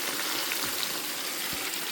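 Garlic sizzles in hot oil during outdoor cooking on a farm, a dense, even hiss with small crackles through a brief moment.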